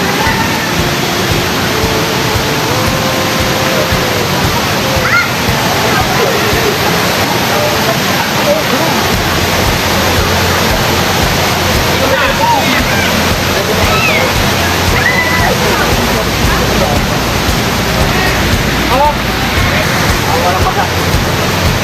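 Hulugan Falls waterfall roars in a constant dense rush of falling water, loud and close throughout, while people talk over it at times.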